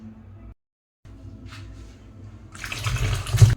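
Tap water runs into a kitchen sink while food is rinsed by hand, a soft trickle that cuts out briefly, then swells into a louder, close gushing splash toward the end.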